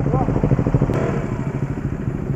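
A motorcycle engine rumbles and revs with a throaty, pulsing exhaust note, loud and close, with voices briefly heard beneath it.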